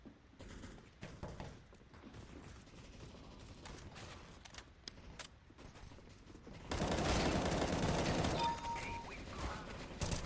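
Gunfire in Counter-Strike: Global Offensive during an Arms Race match: scattered sharp shots and clicks, then a dense, loud burst of continuous firing near the end.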